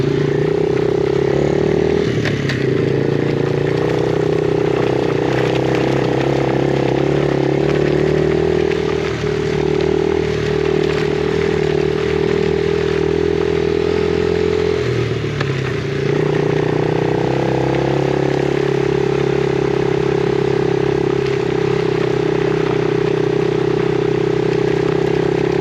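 A Yamaha TTR50 dirt bike rides a bumpy logging road, its small engine droning loud and steady up close, with brief dips and rises in revs as the rider throttles.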